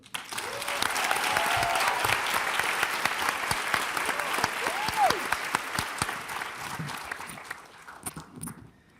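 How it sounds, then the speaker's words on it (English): An audience at a panel on DC heroes gives sustained applause for Alice Randall, a thick, even roar of many hands clapping that holds steady for several seconds before thinning and fading out. "A round of applause for Alice Randall"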